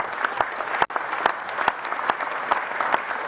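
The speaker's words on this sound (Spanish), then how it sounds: "Y un aplauso también para ella" Audience applauding a minister at a Venezuelan government event for Indigenous peoples, dense continuous clapping with a few sharper individual claps standing out and one brief dropout.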